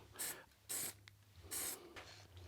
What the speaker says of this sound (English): I will give it now a bit of spray again to see how it blends in.